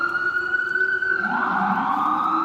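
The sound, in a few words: ambulance siren passing outside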